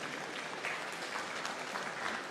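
Steady applause from an audience at a formal African health sovereignty summit, a dense, even clatter of many hands heard at moderate distance with no talk over it.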